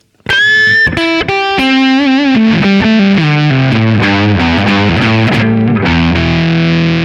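Electric guitar driven through an Anasounds Feed Me fuzz pedal plays a descending run of sustained, heavily saturated notes, loud and close, ending on a held low note.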